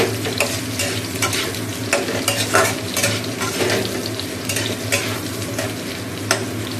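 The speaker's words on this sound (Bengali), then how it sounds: "তো এই দেখো আলু চচ্চড়ির আলুটা ভাজতে দিয়ে দিয়েছি।" Potatoes for aloo chorchori frying in a pan on a home kitchen stove, a steady close sizzle with repeated scraping stirs of a spatula, no talking.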